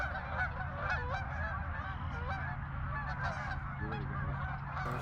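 A flock of geese honking during a Michigan waterfowl hunt: dense, continuous overlapping honks from many birds, steady and fairly loud throughout, with no talk.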